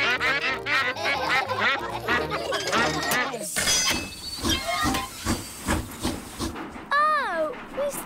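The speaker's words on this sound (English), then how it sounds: "It's Mrs. Duck and her friends." Cartoon ducks from the Peppa Pig train-ride episode quack in a loud, bouncing series over music, then a hissing steam-train burst takes over with rhythmic chuffing, and a final cluster of quacks rises near the end.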